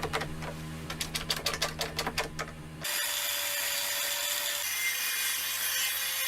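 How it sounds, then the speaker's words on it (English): A circular saw cuts window sash stock to length for a raw pine log cabin. A rapid series of sharp knocks comes first, then a loud, steady whining cut holds for the last few seconds. "A circular saw slices the sash stock to length."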